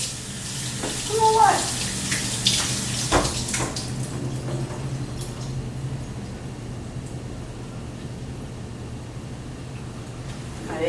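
Cold water runs steadily from a kitchen tap as a steady hiss under brief speech, the stream holding level after an early clatter of pans while freshly cooked pasta shells are rinsed.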